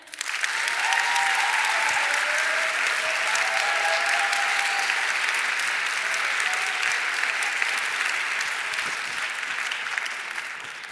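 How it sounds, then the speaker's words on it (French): An audience at a contest finale in Grenoble, the Prix Mirabeau, applauds warmly in a dense, sustained wash of clapping that stays loud throughout and eases slightly at the end. "Je vous demande d'applaudir chaleureusement"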